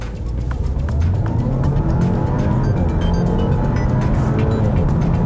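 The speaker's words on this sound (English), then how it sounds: "Oh, that engine is screaming." A 2021 Audi A4 45 TFSI sedan, in dynamic mode with the transmission in S, revs hard and accelerates on a freeway. The engine drone climbs steadily, loud and sustained, with road and tire roar underneath and no talking.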